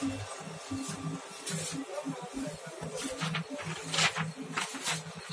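Kyocera TASKalfa 1800/2200 photocopier printing a single page, a close, steady run of rhythmic mechanical thumps and whirs from the feed and rollers lasting several seconds.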